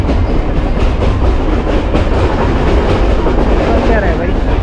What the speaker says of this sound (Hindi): ये वाली जो ट्रेन आप देख रहे हैं